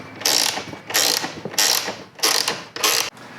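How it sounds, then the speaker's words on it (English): Bolts on a roof tent mount being tightened with a ratchet give five bursts of clicking ratcheting, each about half a second long and separated by short pauses. The sound is close and clear, with no talking. "you can then tighten up these bolts up here"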